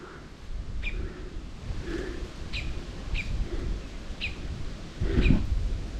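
A small bird gives short, sharp chirps every half second or so, spaced out over a windy, rumbling outdoor background on a trail above 1000 metres altitude near São Paulo.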